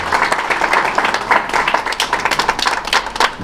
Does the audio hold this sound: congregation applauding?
yes